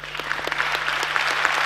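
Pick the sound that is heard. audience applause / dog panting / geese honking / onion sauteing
audience applause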